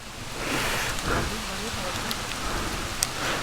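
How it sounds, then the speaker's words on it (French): Hail pelts down outdoors on a mountain trail in the Alps, a dense hissing patter of pellets striking surfaces, fairly loud and continuous with a few sharper clicks, while voices talk faintly underneath. "Et il grêle quoi. Et non mais il grêle."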